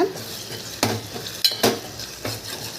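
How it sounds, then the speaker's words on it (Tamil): Coriander powder is stirred into an egg gravy cooking in a pan, with a soft background simmer broken by several quick scraping strokes of a spoon against the pan. "தனியாத்தூள் கொஞ்சமாக போடுங்க நிறையா வேண்டாம் போட்டு கிண்டி வேக விடுங்க"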